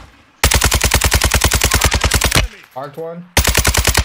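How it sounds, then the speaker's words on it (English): Battle royale video game gunfire: loud, rapid automatic bursts close by, broken by a short spoken phrase before the firing starts again. "I'm getting shot in the back from the lake"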